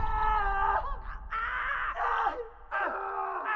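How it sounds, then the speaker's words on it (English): Prisoners in neighbouring cells of a windowless detention facility crying and screaming, long wailing tonal cries that rise and fall continuously, loud and unbroken, with no speech. "The cries and screams from other prisoners in the cells next door."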